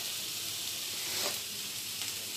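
Onions searing in a hot pan, a steady bright sizzle holding close and even throughout, swelling briefly midway, with no voices.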